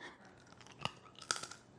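Two crisp, close crunches as roasted almonds are bitten, with quiet chewing between them.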